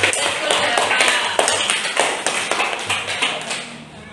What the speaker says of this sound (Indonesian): Beri tepuk tangan buat Ananda.